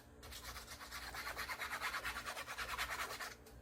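Glue is brushed onto leather before stitching, making a steady, close rhythmic scrubbing of quick back-and-forth strokes that runs for about three seconds with no talking.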